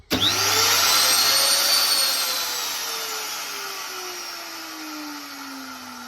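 A small router in a prototype mini router table spins up with a sharp, loud high-pitched whine, then slowly winds down in pitch as the motor coasts, close by.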